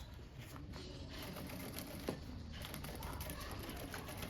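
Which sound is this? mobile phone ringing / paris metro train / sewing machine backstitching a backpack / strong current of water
sewing machine backstitching a backpack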